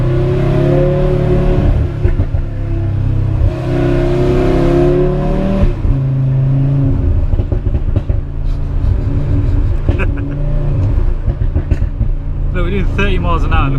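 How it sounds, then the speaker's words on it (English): A 500 bhp Audi RS3 that shoots flames roars loudly at about 30 mph, its engine and exhaust booming continuously with crackling pops and surges in rev, close and dominant throughout. "Look, we're doing 30 miles an hour, look all the noise it's making."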